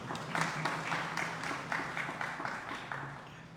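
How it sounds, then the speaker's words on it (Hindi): A live audience at a Hindi religious katha discourse claps steadily, a dense wash of many hands sustained throughout without a clear break. "ताली तो बजाओ इसके लिए।"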